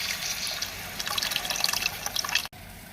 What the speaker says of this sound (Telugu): చింతపండు పులుసు వేసుకుందాం.